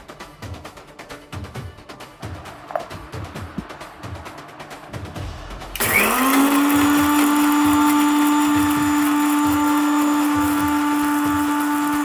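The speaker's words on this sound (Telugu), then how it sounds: "ఇప్పుడు ఒక మిక్సీ జార్ తీసుకొని ముందుగా వేయించిన మిరపకాయలు, ధనియాలు, జీలకర్ర వేసి మొత్తం పొడిలా చేసుకోండి" A mixer grinder whirs up to a loud, steady high-pitched drone partway through, grinding roasted dried chilies, coriander seeds and cumin into powder after a stretch of quieter background noise.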